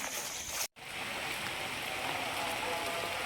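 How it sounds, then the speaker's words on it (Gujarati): Steady rain pours down in an outdoor village setting, a dense continuous hiss that stops for a brief instant before carrying on, with no voices over it. "વરસાદ આવે છે"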